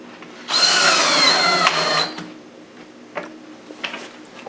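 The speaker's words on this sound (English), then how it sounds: "grab my screws, put drywall screws over here" A drywall screw is driven into a guitar rim while the soundboard is being fitted, heard as one loud whirring drill burst of about a second and a half, then quiet taps and handling.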